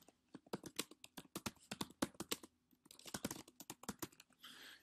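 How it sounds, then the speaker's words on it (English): Rapid keyboard typing, a quick burst of crisp clicks in uneven runs, close by, with brief pauses between flurries. "If I were typing something quickly now"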